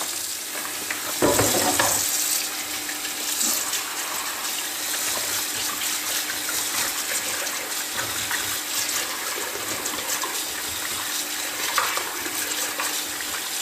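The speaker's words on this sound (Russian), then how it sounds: "Сейчас мы ее промываем под холодной водой и будем вывешивать вялиться." Cold tap water runs steadily over salted capelin being rinsed by hand, a constant splashing hiss with a louder burst of water near the start and small stirring splashes throughout.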